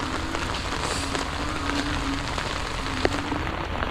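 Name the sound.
heavy rain falling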